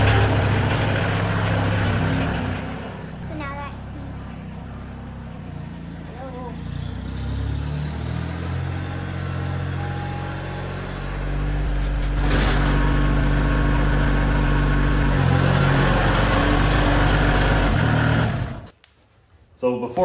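Kioti CK2610 compact tractor engine running steadily during loader removal, a continuous low drone with clunks and handling noises, before cutting off near the end.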